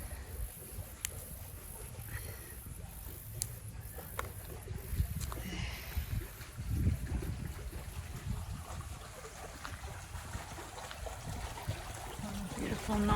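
Water trickles and babbles softly in a small outdoor stream near a garden, a faint continuous gurgle with a few light knocks and rustles, and no one speaking.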